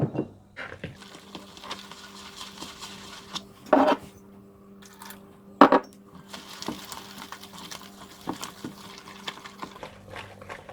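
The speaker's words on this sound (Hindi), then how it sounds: "और इसे अच्छी तरह से इस तरह से मिक्स करते जाएं।" Pakora batter of instant pakora mix and water being stirred in a bowl, with soft wet scraping and a few sharper clinks of the spoon against the bowl, close and fairly quiet.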